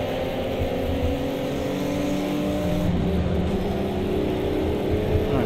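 Race car engines roar steadily in a video game drag race, a continuous loud drone with shifting engine tones throughout and no talking.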